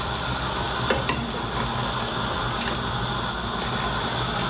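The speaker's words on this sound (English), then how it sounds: "You have to let it cook until the one side under this bread is brown." Bread for a potato, tomato and cheese sandwich fries in butter in a pan, giving a loud steady sizzle with a couple of faint clinks near the start and no voices.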